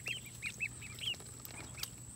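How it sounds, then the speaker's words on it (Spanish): Ducks swimming on a hot day give a series of short, nasal quacks, some overlapping, with a steady high hum in the background. "Los patos."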